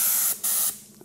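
An automotive paint spray gun gives two loud hissing bursts of air, the second cut off sharply before a quiet tail.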